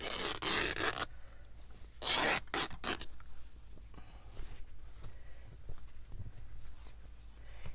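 Fat quarter of 100% cotton quilting fabric torn by hand, loud close raspy ripping bursts, one long and several short, then faint rustling handling.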